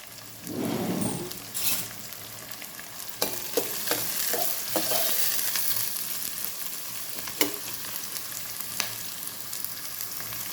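Green chillies sauté in hot oil for churumuri oggarane, a bursting sizzle at the start settling into a steady frying hiss, with a spoon clinking and scraping the pan now and then.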